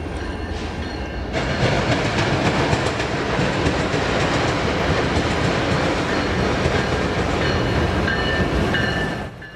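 Eastbound BNSF freight train passing at Rochelle Railroad Park, a loud, close, continuous roar with rumbling clickety-clack of wheels that swells in and holds steady before easing off, with no talking.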